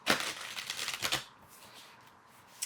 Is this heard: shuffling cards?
yes